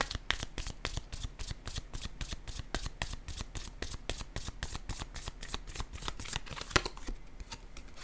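Rapid riffle shuffling of a tarot deck, a dense steady run of crisp card flutters repeating for several seconds, close and alone with no talking.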